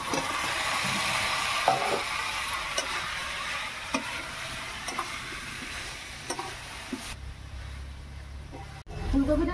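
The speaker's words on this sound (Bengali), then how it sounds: "এবার আমি দিয়ে দিচ্ছি ভাজে রাখা ফুলকপি," Fried cauliflower is stirred into a sizzling spice mix with Kashmiri chilli powder in a pan, giving a steady frying hiss broken by periodic scraping stirs, fairly close and moderately quiet, with no talking.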